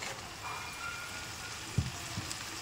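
Spices and chopped tomato fry in a pan for an egg curry masala, a soft steady sizzle with a couple of brief thumps from stirring; no talking.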